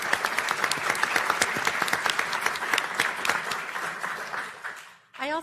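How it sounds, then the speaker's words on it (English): Audience applause at a public health event on pandemic influenza preparedness: steady, dense clapping for about five seconds that tapers off, followed by a brief voice at the end. "So applause for Jeff, please."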